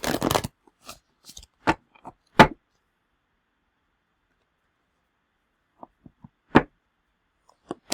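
A few short, crisp riffling bursts of stone cards being shuffled, with quiet gaps between them, close and fairly loud, then scattered soft clicks.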